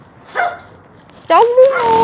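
Dogs in Chile giving a couple of short, rising yelping barks close by, following a fainter yip, with a voice talking over them.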